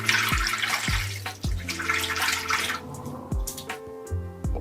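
Running water rinsing a Rockwell safety razor over a sink, a steady close splash and spatter with a few short taps of metal against the basin.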